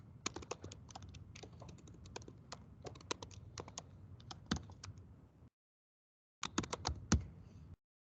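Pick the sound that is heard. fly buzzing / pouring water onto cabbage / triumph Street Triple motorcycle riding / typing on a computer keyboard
typing on a computer keyboard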